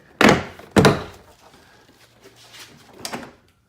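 Trim clips on a Toyota Tacoma door panel pop loose as the panel is pried off, two sharp close thunks in quick succession, then softer rustling and a third muffled knock.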